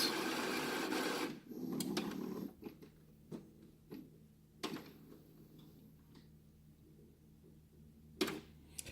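An Epson WF-2760 printer powering on, with a loud whirring mechanism burst at the start, then scattered quieter clicks, ticks and short motor whirs from the print head, close and without speech.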